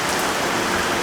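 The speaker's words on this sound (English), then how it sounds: "and it rains again." Steady, dense rain pours down, a continuous close hiss of drops hitting a surface with no other sounds.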